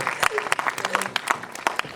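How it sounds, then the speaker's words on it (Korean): A movie audience at a post-screening talk event for the film The Classic with its lead actress claps in a dense, continuous burst. The sharp, overlapping claps fill the room and mix with a few voices. "박수 한번 부탁드릴게요."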